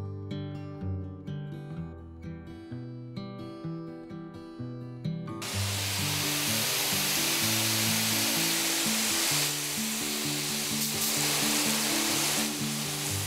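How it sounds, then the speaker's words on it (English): Piano music plays, then a loud continuous hiss of a garden hose spraying water onto a speaker abruptly takes over and continues steadily to the end. "if the speaker is hit with a strong blast from a garden hose"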